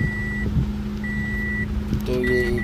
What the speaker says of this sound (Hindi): तो गाड़ी को अभी स्टार्ट हो गया, अभी फौरन बंद हो गया, स्टार्ट होके बंद हो जा रही है।